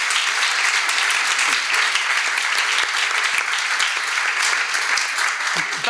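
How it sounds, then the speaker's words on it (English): Rousing audience applause for a panelist at the Scala Italy 2018 conference panel: loud, dense and steady clapping from a full room, continuing unbroken with no talk over it. "that was quite a rousing applause"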